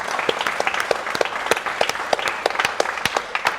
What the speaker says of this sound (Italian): facciamo un grosso applauso ancora